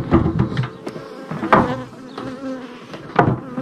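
Honeybees buzz around honey at a hive, several insects droning in and out close by with swelling and fading passes and sharp bursts as they fly near.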